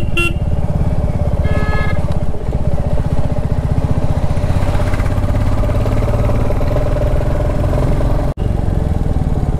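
Motorcycle engine droning steadily up close while riding along National Highway 10 in Sikkim, continuous and loud throughout, with a brief horn honk near the start and a sudden short dropout near the end.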